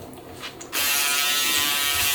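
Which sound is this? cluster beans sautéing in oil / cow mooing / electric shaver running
electric shaver running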